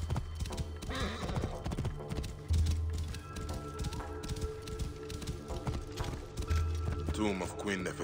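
Horse galloping in the video game Assassin's Creed Origins, rhythmic hoofbeats clip-clopping close by with occasional whinnies, under a voice talking along with game music and effects.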